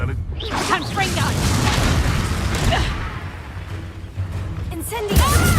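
Confringo fire spell cast during a Hogwarts Legacy battle, a booming whoosh and fiery bursts layered with swirling magic effects and a sharp blast near the end, loud and close amid combat noise.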